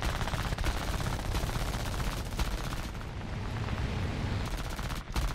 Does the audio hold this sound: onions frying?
no